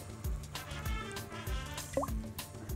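Water poured into a cooking pot of bulgur dish set on the stove, with a few soft drips and liquid plops repeating close by at low level.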